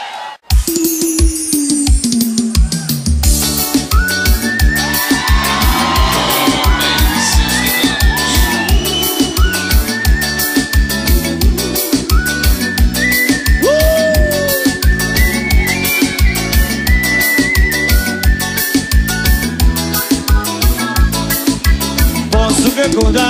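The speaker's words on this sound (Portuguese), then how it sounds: "Os aplausos dos degerenses" A live show audience cheers, shouts and applauses at a concert in Teófilo Otoni, with the crowd noise blended under loud, steady band music throughout.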